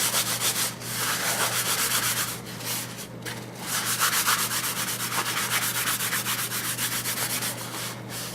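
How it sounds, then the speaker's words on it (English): A napkin buffs wax conditioner into a wooden cutting board, making close, rhythmic rubbing strokes that repeat steadily with brief pauses between passes. "just kind of buff it."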